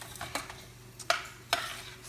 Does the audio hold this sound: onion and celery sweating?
yes